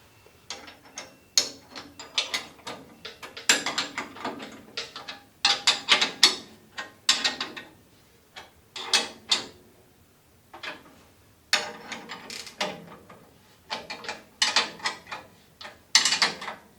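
Two 19mm wrenches tightening the carriage bolts on a Woodland Mills bandsaw mill frame give off a run of close, irregular metallic ratcheting clicks and clanks in short bursts with brief pauses between them.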